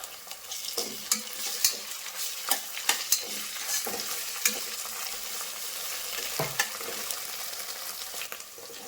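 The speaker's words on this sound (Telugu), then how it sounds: "అల్లం వెల్లుల్లి పేస్ట్ కూడా వేగి పచ్చివాసన పోయిందండి" Ginger garlic paste fries in a pan for a cucumber mutton curry, giving a soft, steady sizzle. Regular clinks and scrapes from stirring sound close by, and there is no talking.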